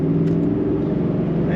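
A 2008 Chevrolet Corvette coupe with an automatic transmission pulls hard under acceleration, its engine a steady, loud rumbling drone heard from inside the cabin throughout.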